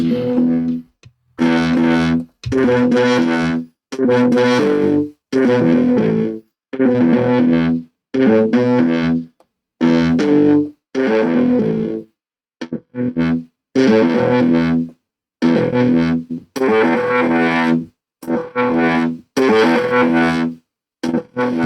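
Distorted musical phrases processed through a transistor-like saturation plugin in FL Studio, short loud bursts separated by brief gaps in a steady rhythm, with no talking.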